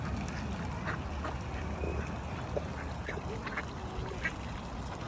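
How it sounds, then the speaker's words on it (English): Ducks, including young ones, quack intermittently on open water during a nature walk in the UK, several short calls at moderate distance over steady outdoor background noise. "Look at the ducks, guys."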